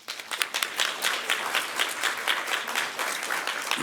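A community transit event audience in Battle Creek applauds Mallory with a sustained patter of many hands clapping at moderate distance, fairly even in loudness throughout.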